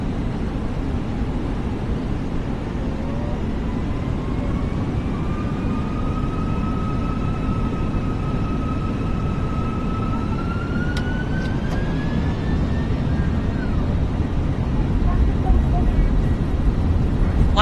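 Airliner engines spool up during the takeoff roll on runway 15 at Paro, a loud broad roar with a rising turbine whine, with a voice briefly audible inside the cabin.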